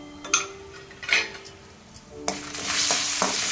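Coriander seeds, urad dal and chana dal frying in a pan for a traditional recipe, with soft sizzling and scattered stirring scrapes that swell into a steadier, louder crackle toward the end.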